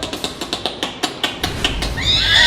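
A voice imitates a horse: rapid clip-clop clicks in a quick rhythm, then a loud, shrill whinny rising at the end, close and alone.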